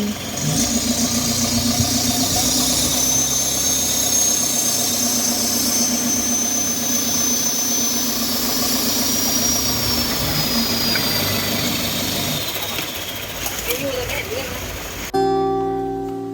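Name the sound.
speedboat engine running on a boat ride in Bangkok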